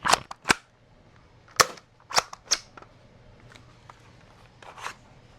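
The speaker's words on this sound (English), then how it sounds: "put 18 of these darts downrange and see how the magazine performs in the Brute Pro" A Brute Pro foam dart blaster fed from a slim 18-round magazine fires a quick string of sharp, close shots, several in fast succession and then more spaced, fainter pops, with no talking.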